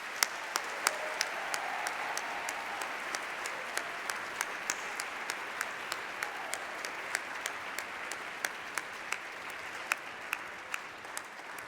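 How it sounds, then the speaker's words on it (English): Sustained audience applause at a choir gala concert, a steady even wash of many hands clapping from a large crowd, with a few sharper claps standing out and no talking. "A big round of applause for Anna."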